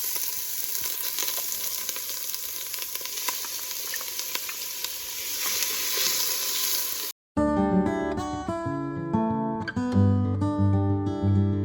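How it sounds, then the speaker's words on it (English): Garlic, onion and celery sauté in olive oil in a cooking pot, a steady crackling sizzle with faint stirring for several seconds, then cut off abruptly and replaced by music. "I'm going to go ahead and put this in our cooking pot and get it sauteing."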